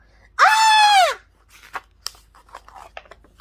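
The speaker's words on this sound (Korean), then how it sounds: "갑자기 날카로운 비명소리가 들렸어요." A sharp, high-pitched scream sound effect in a Korean children's audio story, a single shrill cry under a second long, followed by faint scattered knocks and rustles.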